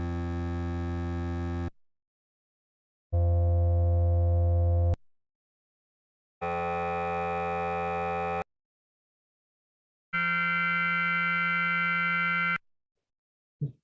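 Four short synthesized tones from an autoencoder's latent space, each a steady, harmonically rich timbre lasting about two seconds, separated by silences and played back one after another.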